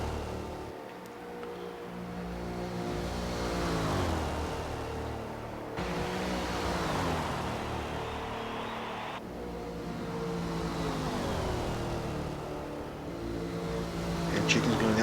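Race cars roar through a lap in the video game PCW IROC II at Sunset Peninsula, with engines whining up and down in pitch as they shift and pass, a steady loud drone throughout.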